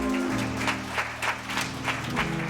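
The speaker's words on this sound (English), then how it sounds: "one more round of applause" Audience applause at a lecture series event, steady dense clapping from a hall crowd over a low hum, sustained throughout.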